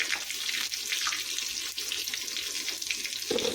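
Egg-battered, cheese-stuffed chiles fry in very hot oil, giving a steady, close hiss and crackle that runs through the whole clip with no voices.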